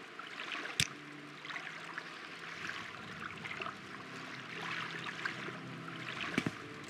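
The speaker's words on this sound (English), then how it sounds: "Why do I hear water when we're in a cave?" Water flowing and trickling inside a cave in the video game Morrowind, a soft continuous stream with faint splashes and a couple of sharp clicks, heard alone at low level.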